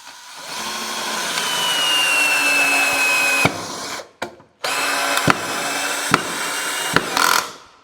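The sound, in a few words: Black Tools cordless screwdriver drilling through wood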